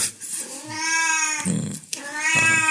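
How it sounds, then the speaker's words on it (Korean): A cat meowing loudly and insistently up close, with long drawn-out wailing cries that come in three bursts. "고양이가 또 소리를 지르며 돌아다닐 것 같아서"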